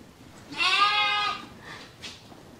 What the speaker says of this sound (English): Here's the funny looking goats now, all sheared.